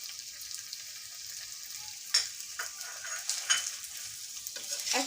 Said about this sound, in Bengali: এখন সব একসাথে এটাকে মিশিয়ে দিচ্ছি।